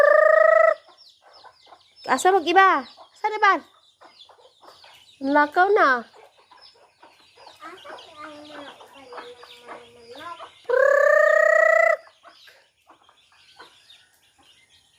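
Chickens cluck and squawk nearby, with a rooster-like call and a few short spoken words mixed in among the bird noises.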